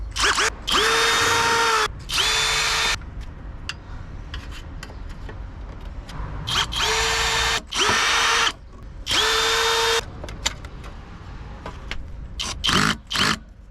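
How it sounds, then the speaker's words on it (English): A power drill whirs in repeated high-pitched bursts, starting and stopping several times with short pauses between runs. "And this is me using my new drill."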